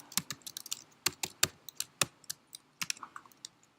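Fast, uneven typing on a computer keyboard in IPython, with crisp, close key clicks coming in short bursts and brief pauses, and no one talking.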